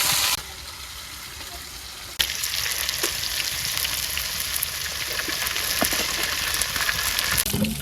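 Greens go into hot oil with onion, garlic and green chili, setting off a loud, steady frying sizzle that jumps up sharply and holds close to the microphone without speech.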